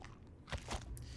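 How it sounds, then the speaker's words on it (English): Crunching bone impacts in the video game Scorn, two short wet crunches close together over a low rumbling game soundscape, with no talk. "Good old bone crunching, family jewel smashing fun."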